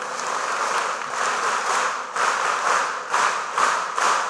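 An audience at a live talk claps harder, a loud, continuous wash of many hands with rhythmic surges, filling the whole stretch without speech.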